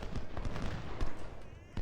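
Musket volleys and cannon fire in the Ultimate General: Civil War video game, a steady crackle of irregular gunshots with a few sharper, louder reports, heard at moderate level without talk.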